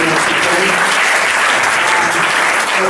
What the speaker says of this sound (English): I want to thank our panelists for a round of applause for them